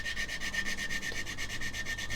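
Sanding a seam on a plastic model kit, steady rhythmic back-and-forth rubbing strokes of abrasive on plastic, close and clear with no voices.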